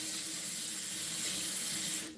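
Tap water running steadily into a sink to wet a washcloth: a loud, even hiss of flowing water that stops abruptly at the end.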